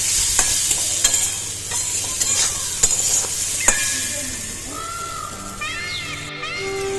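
Dal lentils frying in a pan give a steady sizzle as a spoon clinks and scrapes the metal in quick strokes, and a thin high squeal or whistle drifts in near the end.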